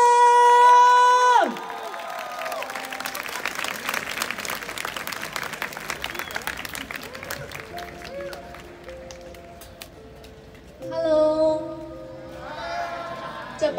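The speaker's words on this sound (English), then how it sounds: "with your loudest, loudest applause" Crowd at a rooftop concert claps and cheers loudly as a singer is welcomed on stage, with whoops and shouts over steady applause. An amplified voice speaks at the start and again near the end.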